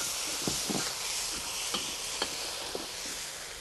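Scallops being stir-fried in a wok with a seasoning sauce of cornstarch, soy sauce, sugar and sesame oil, with a steady sizzle and several sharp scraping stirs of the spatula.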